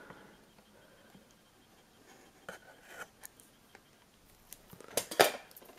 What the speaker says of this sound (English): Just get the scissors quickly.